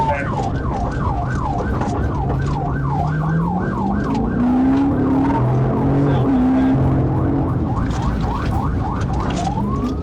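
Police car chase with a siren wailing and warbling loudly throughout, as a car swerves and its tires skid underneath, close and continuous.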